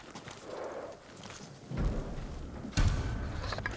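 Horse hooves clip-clopping on the ground in the samurai action game Ghost of Tsushima, a steady walking rhythm of close, moderately loud thuds with no talk over it.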